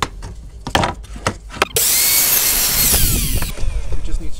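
Material for a ghost fish tank is being cut with a power tool: a few sharp knocks and scrapes, then a loud, continuous, high-pitched cutting whine for about two seconds that stops abruptly.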